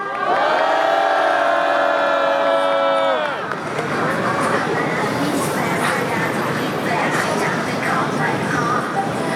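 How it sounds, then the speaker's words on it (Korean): A rally crowd in Incheon cheers and shouts loudly after a sustained tonal sound ends, the dense roar of many voices continuing steadily through to the end. "우리 고3 학생을 큰 환호로 모시겠습니다."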